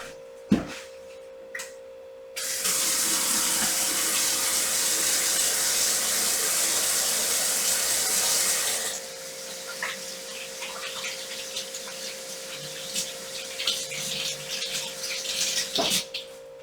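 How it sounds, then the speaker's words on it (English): Tap water runs steadily and loudly for several seconds while someone washes their hands at a kitchen sink, then stops, leaving a few quiet clicks and small handling sounds. "I'm going to wash my hands real quick."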